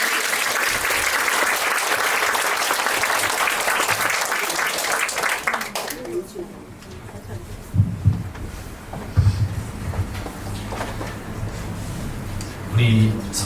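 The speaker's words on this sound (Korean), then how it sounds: "우리 나오실 때 박수로." A church congregation applauds as a pastor comes forward at a dedication thanksgiving service, sustained loud clapping for about six seconds that then fades into quieter room sounds with scattered thumps and murmuring voices.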